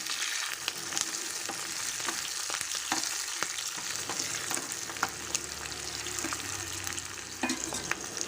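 Lentils sizzle and crackle in hot oil with green chillies and curry leaves during tempering, a dense, steady frying hiss with scattered pops and the occasional stir, close and loud, no talking.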